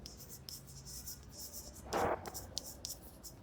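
Faint scratchy strokes of writing on a board during a maths class, with a short louder stroke midway and light taps, heard close in a quiet room.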